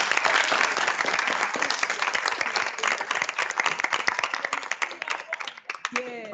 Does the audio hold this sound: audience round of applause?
yes